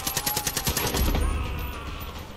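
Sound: grenade launcher firing in video game Far Cry 5

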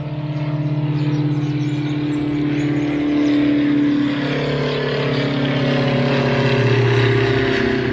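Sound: airplane flying overhead

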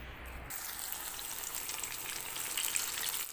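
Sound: eggplants frying in a pan

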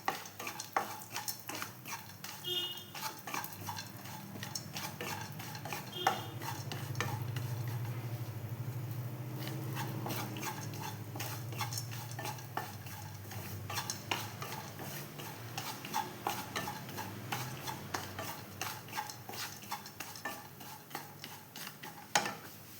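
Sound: peanuts roasting in ghee in a pan

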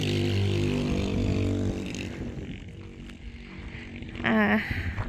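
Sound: loud motorcycle driving past

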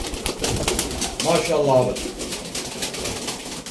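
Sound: pigeons cooing

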